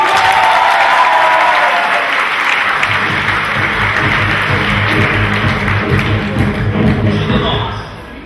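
Sustained audience applause at a university team competition final on stage, broad and steady throughout, with a low murmur of crowd noise underneath, fading slightly at the very end.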